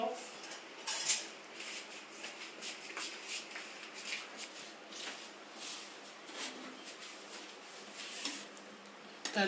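A metal ladle skims scum off sugar syrup (chashni) in a pan, giving faint, steady scraping and light clinking against the metal with no voices.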